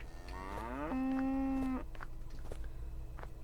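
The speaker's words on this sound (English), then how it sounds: "Maybe after I maul this cow to death." A cow in the video game Unturned lets out one long, loud moo that rises and then holds for about a second, then cuts off. Low background rumble and scattered faint clicks continue after.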